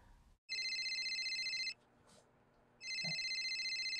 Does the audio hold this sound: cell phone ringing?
yes